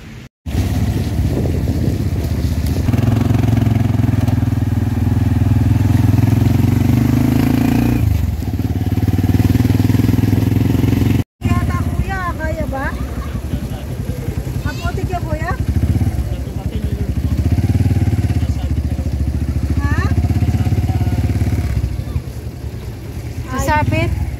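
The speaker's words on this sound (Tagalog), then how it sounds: "Bagay, mababa kasi itong motor niya." A low-slung motorcycle drones steadily on a rainy ride to a rural village, its engine loud and continuous with wind buffeting the microphone, briefly cut once, while someone talks over it.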